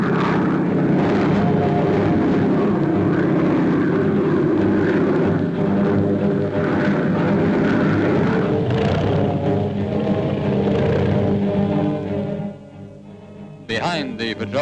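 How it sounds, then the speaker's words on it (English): A World War II patrol aircraft flies overhead on a constant aerial patrol over outer waters, its steady, loud propeller-engine drone filling the air for most of the stretch before dropping sharply near the end. "Over the outer waters, we maintain a constant aerial patrol."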